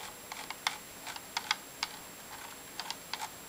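Scroll wheel of a Microsoft Intellimouse Optical mouse, modded with quieter switches, turning in a few short bursts of soft, close clicking ticks with brief pauses between them.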